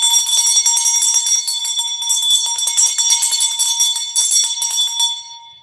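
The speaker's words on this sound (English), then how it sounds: "Let me ring my other bell too." A bright, high bell rings continuously and loudly, with a rapid jangling rhythm, then stops abruptly and leaves a short fading tail.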